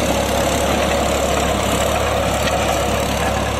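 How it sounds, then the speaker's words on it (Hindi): A New Holland 3600-2 tractor engine runs under load driving a rotavator, a loud, close, steady diesel rumble with a dense even throb and no letup. "समझ सकते हो कि रोटावेटर कितना भार के चल रहा है"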